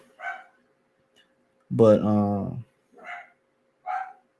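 A dog barks in short yips and a longer whining bark, about four bursts spread apart, fairly close and alone between brief pauses.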